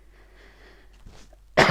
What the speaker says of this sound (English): Sorry, occasionally I will cough.